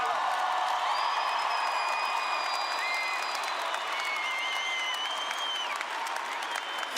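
A large crowd at a Catholic faith gathering applauds continuously, a thick, even roar of clapping with scattered whistles and cheers rising through it, no speech on top.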